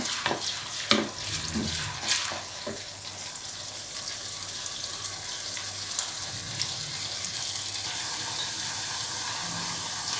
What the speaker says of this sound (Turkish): Böyle gördüğünüz gibi kavuruyorum.